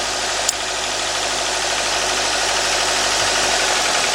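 The 1.8 engine of a 2013 Nissan Sentra idles rough with a cylinder 1 misfire, a steady close rumble with uneven knocking pulses, plus one sharp click early on, and no talking.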